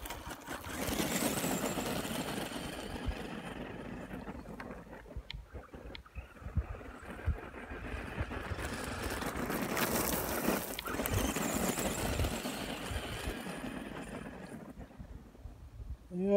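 A small RC car running on a 2S lipo battery, its electric motor whirring and surging up close with wind noise as it gradually slows down; no talking.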